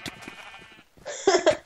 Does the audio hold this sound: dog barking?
no